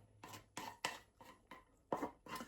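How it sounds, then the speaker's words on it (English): Okra being pounded in a kitchen to make it slimy, six distinct thudding strikes at a steady, slightly uneven rhythm, close and moderately loud, with no talking. "I'm just pounding it, makes it to be a bit slimy."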